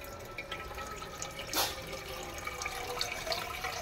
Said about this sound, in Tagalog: lagay tayo ng tubig sa ating kaserola.